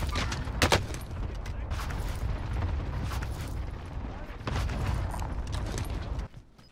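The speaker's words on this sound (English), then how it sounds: "Yeah, he's shooting me." Sustained gunfire and rumbling blasts in the video game Call of Duty Warzone, with shots arriving in dense volleys that mostly hold steady before dropping away at the end.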